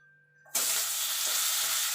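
Pointed gourd (potol) dropped into hot oil in a pan, used before for frying fish, bursts into a loud, steady broadband sizzle after a quiet start and keeps crackling evenly throughout.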